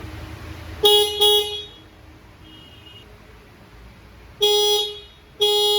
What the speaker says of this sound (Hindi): और ये रहा आपका हॉर्न।